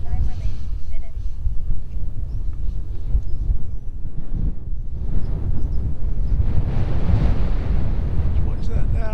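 Strong wind buffets the microphone outdoors on a very windy morning, a loud steady roar with gusty low rumble filling the whole stretch, swelling again near the end.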